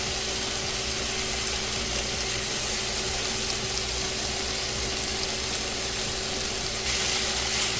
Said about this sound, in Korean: 기름 두른 팬에 감자를 넣고 볶아주다가 양파 1개